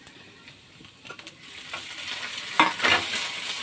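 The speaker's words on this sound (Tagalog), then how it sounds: "pag nagisa na natin bawang, sibuyas, luya, ilagay na natin itong bagong alamang." Fresh small shrimp sautéing in a pan with garlic, onion and ginger, a soft sizzle that swells as they go in and is stirred, with scraping stir strokes and no talk.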